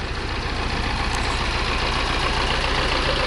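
A vehicle engine runs steadily at low throttle in sixth gear, a constant close, loud drone without change or speech.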